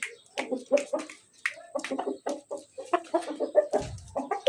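A fighting rooster clucks repeatedly in short, choppy bursts, close and fairly loud, with a steady rhythm of clucks throughout.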